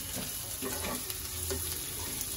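Chicken with curry leaves fries in a pan, a continuous close sizzle with scattered crackles and a few stirring scrapes, moderately loud and steady throughout, no voices.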